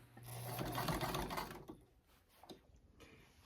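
A sewing machine top-stitches pleats on a recreated 1925 man's shirt, a close steady mechanical whir for about a second and a half before it slows and stops, leaving faint handling clicks.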